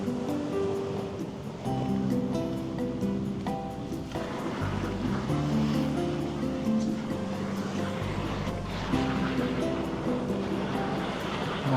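Boiling hot spring water at the Beppu hells in Japan, a loud continuous bubbling and rushing wash with a steady hum running through it, heard close.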